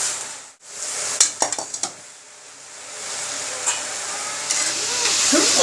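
Spice masala for fish curry being stirred and sautéed in a pan, soft sizzling with a few quick scraping clinks of a utensil against the pan, then a gentle continuous fry.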